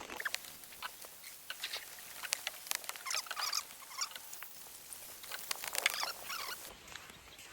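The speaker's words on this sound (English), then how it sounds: "Please stop raining for this canoe ride back though." Rain patters steadily on leaves in the Amazon rainforest, a dense spray of close, light drops and ticks with no voices.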